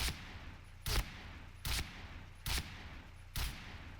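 Gunfire in the shooting game Point Blank: five sharp, evenly spaced shots about a second apart, each a short loud burst over quiet background.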